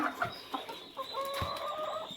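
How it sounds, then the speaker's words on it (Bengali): Pakistani-breed hens in a home yard cluck in short, soft, irregular bursts at close range, with faint higher bird calls in the background. "দেখেন এই যে আমার মুরগিগুলো"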